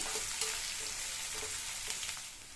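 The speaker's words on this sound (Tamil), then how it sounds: "எல்லாத்தையுமே லைட்டாக 1 நிமிஷத்துக்கு வதக்கி வச்சுக்கணும்" Garlic and chopped onion sauté in a pan, giving a constant close sizzle with light stirring scrapes and small taps of the spatula.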